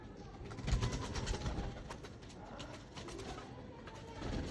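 Soft cooing from a female pigeon repeats close by over low background noise, with no talking.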